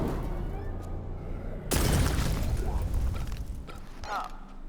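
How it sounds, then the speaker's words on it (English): A Molotov cocktail bursts among zombies in a video game, a sudden loud whooshing blast followed by crackling, roaring fire that slowly fades, with other game noises behind. "Aim at the ground where the zombies are, so the explosion affects all of them,"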